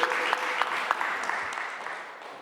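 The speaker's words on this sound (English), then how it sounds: "So give him a big round of applause, please." Audience applause at a panel introduction: a steady wash of clapping from a crowd with a few sharper claps standing out, fading slightly toward the end, with faint voices underneath.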